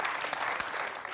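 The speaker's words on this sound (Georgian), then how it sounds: "გთხოვთ მივესალმოთ ოვაციებით ამ ადამიანებს." Studio audience applauding on a Georgian medical talk show, a steady dense wash of clapping that fills the whole moment with no voices over it.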